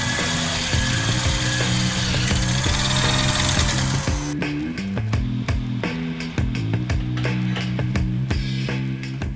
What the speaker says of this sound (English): Make sure you apply plenty of the cutting oil or any type of lubricant to the reaming bit.